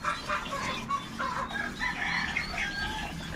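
Chickens in a rural yard cluck and crow close by, overlapping calls in an irregular chatter throughout.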